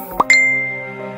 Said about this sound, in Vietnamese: Là tin nhắn của tên thủ lĩnh.